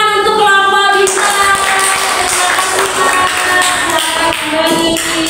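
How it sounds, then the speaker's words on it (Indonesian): A classroom of students claps for a student group, a steady flurry of hand claps lasting several seconds with a few taps and shuffles mixed in, close and fairly loud. "Oke, beri tepuk tangan untuk kelompok bisa."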